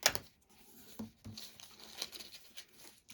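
A book page is folded and tucked back by hand, producing soft close paper crinkles and a light tearing rustle in quick small bursts.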